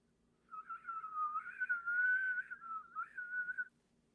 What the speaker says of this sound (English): I was able to whistle for the first time in 8 years.